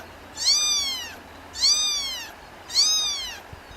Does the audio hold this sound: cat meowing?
yes